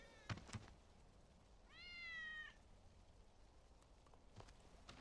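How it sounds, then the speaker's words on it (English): A single drawn-out meow from Wedge's cat in the Final Fantasy VII Remake video game sounds midway through a quiet scene, framed by a few faint knocks and footstep-like taps. "That's Wedge's cat."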